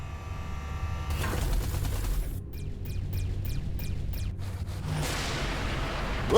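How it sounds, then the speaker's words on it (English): Artillery fire in the space shooter Everspace 2, a dense rumbling barrage with a series of rapid sharp repeated bursts in the middle, loud and continuous without talk. "Watch out. The artillery."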